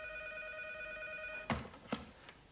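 A telephone rings with steady electronic tones for about a second and a half, then stops as the handset is picked up with a few clunks and rustles, in a quiet room.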